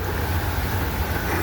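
A truck passing near a forest, a steady low engine rumble that holds at a constant level throughout, fairly close and alone.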